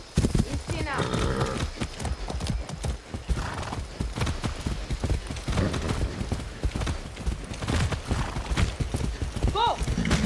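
A horse in Far Cry 6 gallops with rapid, rhythmic hoof clip-clops close by, giving a neigh partway through, while someone talks over the hoofbeats.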